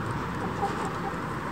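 Backyard city chickens in a coop cluck softly and steadily for a moment, a low continuous fowl murmur at a modest distance with no speech.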